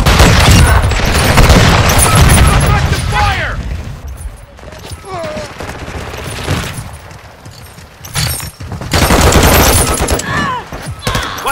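Rapid gunfire in the Call of Duty: Modern Warfare II video game: loud bursts of automatic fire and heavy booms fill the scene, easing briefly midway before surging again, with shouted voices mixed into the combat.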